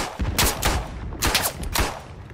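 Pistol shots in the World War I shooter game Isonzo: several sharp, punchy reports in irregular bursts, with some doubled in quick succession, loud and close with no talk.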